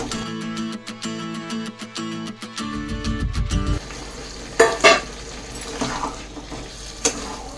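Fried potatoes and half-boiled chickpeas for ghugni sizzle in a pan with spices, with a sharp metal stir clatter at the start followed by steady frying hiss and intermittent scraping of the spoon.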